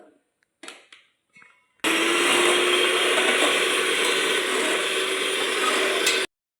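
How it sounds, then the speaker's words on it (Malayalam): Electric hand mixer beating two eggs in a bowl for homemade cake batter, running as a steady, loud whirring drone for about four and a half seconds after a few brief knocks and clatters. "ഈ മുട്ട ബീറ്റ് ചെയ്തെടുക്കുക."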